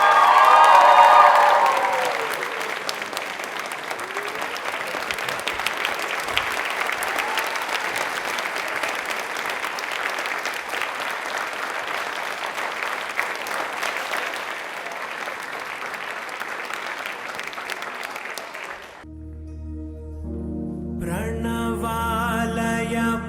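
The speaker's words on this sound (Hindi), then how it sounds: "तालियां एक बार जोरदार अपने लिए बजा दीजिए।" Loud, sustained audience applause fills the space for close to twenty seconds at a televised quiz show, a thick crowd clatter that fades before music begins.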